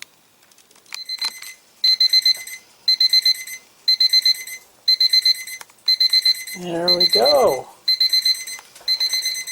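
A high electronic temperature alarm in an RV beeps in a steady repeating pattern of short bursts, with a brief spoken remark partway through.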